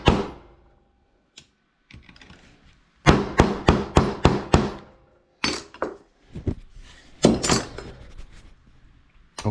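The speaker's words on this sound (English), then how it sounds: "I reckon I can just smash it out with pointy things and a hammer." A hammer drives pointy tools against the ceramic of a spark plug, sharp metallic strikes in a quick run of five, then scattered clinks and knocks with pauses between.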